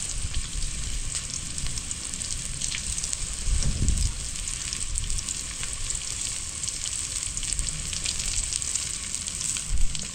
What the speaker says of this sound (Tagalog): Saglit lang naman niya igisa.